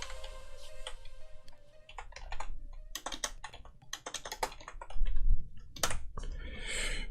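A computer keyboard sits right in front of a microphone, and rapid, uneven clacks of typing burst in clusters with short pauses, loud and close, with no talk.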